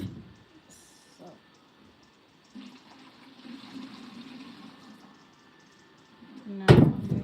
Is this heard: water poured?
yes